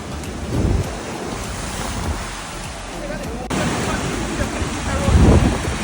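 Ocean surf washes onto a beach in Portland, a steady broad rush of waves heavily mixed with gusting wind buffeting the microphone, with low surges and a faint voice in the background.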